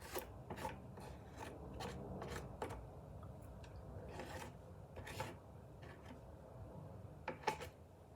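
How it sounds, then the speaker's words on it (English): A utensil scrapes chocolate chip and desiccated coconut brownie mixture, giving repeated short, close rasping strokes in an irregular rhythm, fairly quiet, with no talk. "Just scrape off the excess so you're not wasting anything."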